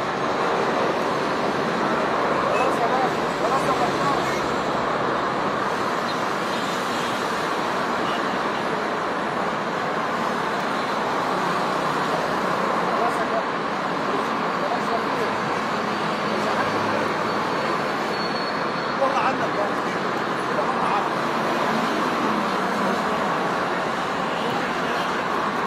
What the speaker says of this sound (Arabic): الآن تتحرك السيارة الخاصة بالفنان كريم صبري ناقلة إياه إلى مدفن العائلة بالواحات طريق صلاح سالم